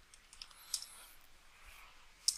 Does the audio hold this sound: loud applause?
no